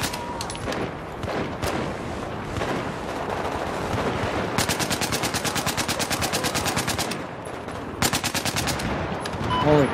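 Battlefield 4 machine gun fire in online multiplayer, rapid sustained bursts that are loud and close, with long rattling strings of rounds, brief pauses between bursts and game noise underneath.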